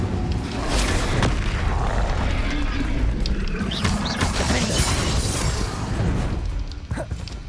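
The Incendio fire spell bursts in Hogwarts Legacy with a loud roaring, whooshing blast that rumbles continuously before trailing off, mixed with combat noise.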